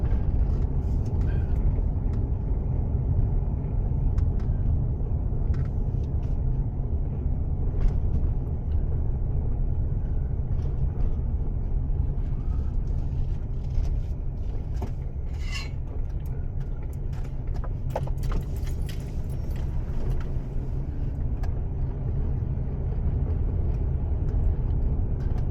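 A vehicle drives east along a rural road toward Stagecoach Drive, a constant loud low rumble of engine and tires with faint scattered clicks and rattles inside the cab, no talking.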